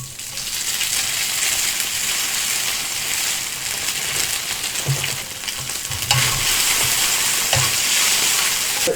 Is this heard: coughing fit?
no